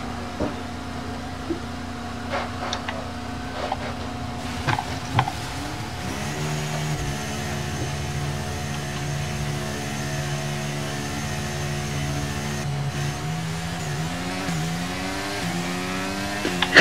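Formula One race car engine in F1 23 at the Italy round, a steady mid-pitched drone that climbs through gear changes, with shifting harmonic whine and a brief rising rev near the end, sustained and close.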